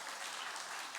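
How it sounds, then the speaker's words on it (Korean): A church congregation claps together in a brief, dense burst of steady applause, heard at a moderate distance. "큰 박수."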